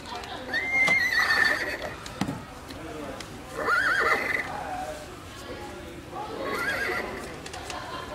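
A FurReal Friends toy horse gives three separate electronic neighs spread across several seconds, each rising and fading, with quiet background noise between them.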